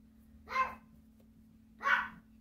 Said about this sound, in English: And my dog's going to bark because somebody's outside.